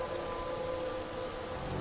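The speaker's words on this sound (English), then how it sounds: "Look at the rain." Steady rain pours down in the stealth video game Thief during a stormy night in the city, a dense even hiss of drops on surfaces that holds constant and fairly loud throughout with no voices.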